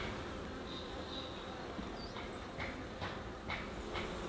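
A honeybee swarm buzzes in a soft, continuous drone throughout, with a few faint clicks and taps nearby.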